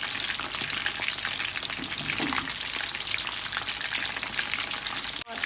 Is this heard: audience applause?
no